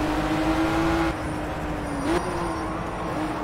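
A BMW 1 Series Coupé engine in the racing game Project Cars drones steadily at a constant pitch, with a slight dip and shift partway through, loud and continuous.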